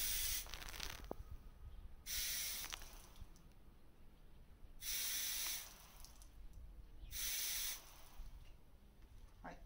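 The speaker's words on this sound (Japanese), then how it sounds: "これでちょっと散水してみます。" Water bursting from an opened fire sprinkler head fitted to a pipe tip, hissing spray in three or four separate bursts of a second or two, with quieter pauses between.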